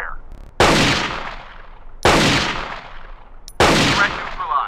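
Three loud sniper rifle shots ring out in Rainbow Six Rogue Spear, each a sharp crack with a long decaying echo, spaced about one and a half seconds apart.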